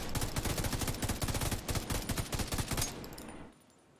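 Rapid automatic M4 rifle fire from The Division 2 rattles off in a fast continuous burst for about three seconds, loud and close, then cuts to a quiet tail.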